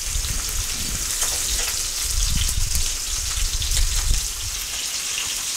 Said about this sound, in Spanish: Con el aceite bien caliente, saltearemos las setas.